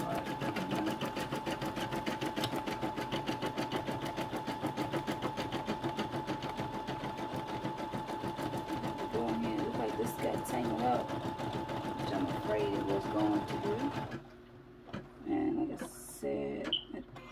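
Embroidery machine stitching a baseball hat, its needle hammering in a fast, even, loud rhythm near the microphone with a steady hum. Close to the end it stops, and quieter handling noises follow.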